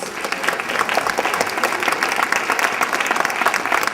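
A live audience at a staged event bursts into sustained applause for a volunteer who carried a box, a dense, steady wash of many hands clapping throughout with no break.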